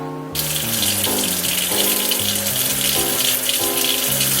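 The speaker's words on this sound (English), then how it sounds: "get the sink ready to clean them" Kitchen tap starting abruptly and then gushing steadily into a sink being filled to wash greens, loud and close, with a faint low hum underneath.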